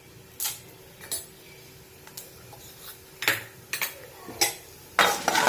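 Mustard seeds, with chana dal and urad dal, splutter in hot oil in a home kitchen, giving scattered sharp pops and crackles at irregular intervals over a low background, bunching together toward the end.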